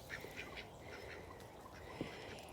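A pet duck quacks softly a few times while splashing in a home bath, the quacks brief and fairly faint over a steady wash of splashing water.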